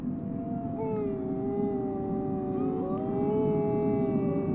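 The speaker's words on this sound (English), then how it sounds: "The type of howl also changes according to the wolf's social rank." Wolves howl in long, rising and falling tones that overlap one another, moderately distant over a steady low background rumble, with no voices.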